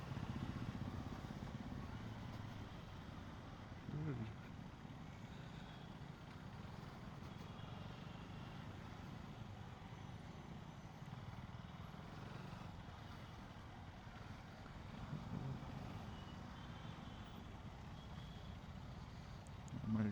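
Highway traffic is heard from a Gen 3 KTM Duke 250 motorcycle as a steady, faint rumble of engines and road noise, with occasional soft voices under it.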